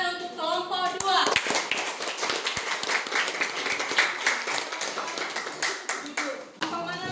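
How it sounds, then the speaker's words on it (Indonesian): Classmates clapping for group 2 in a classroom, quick scattered claps growing into dense applause that lasts several seconds, with voices talking at the start and end. "Tepuk tangan untuk kelompok 2"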